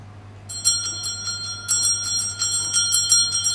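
A single handbell rings to open a seance at the Skirrid Mountain Inn in Wales, a bright metallic strike that sounds again and keeps ringing over a steady low hum in a quiet room.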